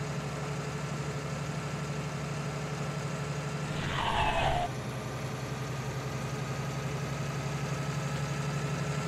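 A New Holland 7630 tractor idles in Farming Simulator 19, a steady low engine drone with a brief whooshing turbo rise and fall in the middle before the even rumble resumes, with no voices.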